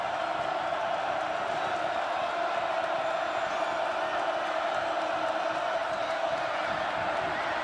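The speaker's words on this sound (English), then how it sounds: "Crowd back into it now" Dense, steady crowd roar fills a college football stadium during a 2012 Kansas State versus North Texas game, a loud continuous wash of distant cheering with no distinct voices standing out.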